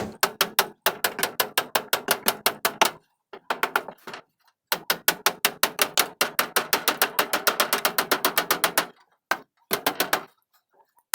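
Rapid bursts of hammer blows ring out while a wire-mesh rabbit cage is built, each run of quick metallic strikes broken by short pauses.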